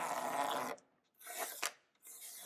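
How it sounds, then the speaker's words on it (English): Old, yellowed clear coat being scraped off a plastic headlight lens during a restoration, giving harsh raspy scraping strokes in two or three bursts separated by brief pauses, close and fairly loud. "it's going to take a little more work to scrape it off"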